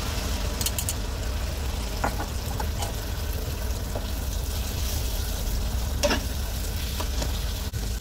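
Egg sizzles and fries steadily with bitter gourd in a pan, a continuous close crackle with occasional clinks of stirring.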